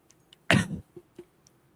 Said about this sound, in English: Y'all ever just cough?